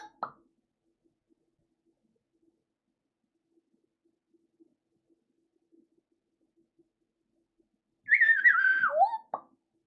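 A person whistles a short, bright falling-and-rising phrase near the end, loud and close, after a long stretch of near silence with a tiny click at the start.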